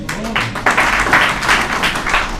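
An audience at a literary celebration applauds in a hall, a dense wash of clapping that comes in bursts and stays fairly loud through the short stretch.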